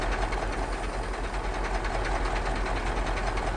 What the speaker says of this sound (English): Well, I think there's a train coming.